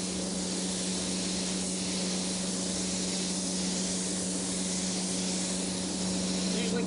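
A spray gun lays down a wet coat of tangerine candy paint, producing a steady, close hiss of atomized paint that runs without pause, with slight swells between passes and no talk.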